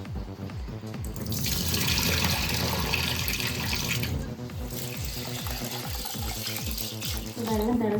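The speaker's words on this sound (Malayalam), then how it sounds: "നമ്മൾ അരി കഴുകാൻ പോയി" Rice being washed under a running kitchen tap at the sink, with steady splashing and swishing water close by and rhythmic stirring pulses, loud and continuous throughout.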